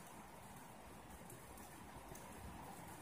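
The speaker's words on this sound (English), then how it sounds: "The gentle sound of rain pouring on my roof." Gentle rain pours onto a house roof, a faint, steady, uniform patter and hiss heard from indoors, continuous and unbroken with no voices.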